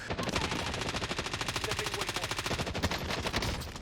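Rapid automatic fire from the OTS 9 submachine gun in the video game Warzone, a dense continuous burst of shots running through the whole stretch at steady volume, close and loud.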